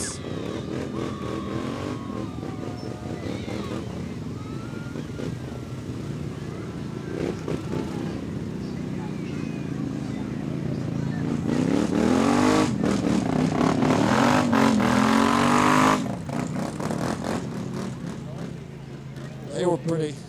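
ATVs and UTVs of a quad riding group rolling past in a volunteer fire company's annual parade, engines growing louder and revving close by mid-way, with a loudspeaker announcer talking throughout.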